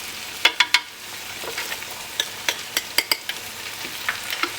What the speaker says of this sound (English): So now that our onions are almost sauteed, we will add the curry leaves, the lemongrass,